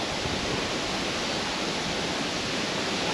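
Dartmoor river in Victoria, Australia running high with a lot of water, a steady broadband rush of flowing water, close and continuous with no breaks.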